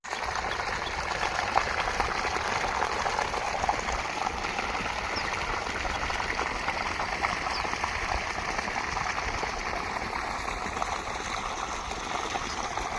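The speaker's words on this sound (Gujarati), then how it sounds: "હવે હમણાં પાણી ચાલુ કર્યું છે" Irrigation water flowing steadily in a farm field after being switched on, a constant broad rushing and trickling wash with no pauses and no talking.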